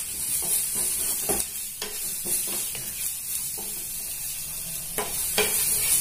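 Mint leaves sautéing in a pan for peanut masala sundal, a steady close sizzle broken by repeated scrapes and clicks of a spoon stirring against the pan, with no voices.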